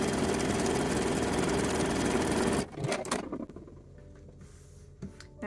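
A sewing machine top stitches picot elastic on lingerie cups, running as a steady whirring buzz for under three seconds, then stopping and leaving faint clicks and handling noises.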